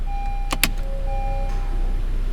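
A short electric motor whine and a couple of sharp mechanical clicks as the electronic parking brake engages inside a 10th-generation Honda Civic, over a steady low engine hum and faint chime tones.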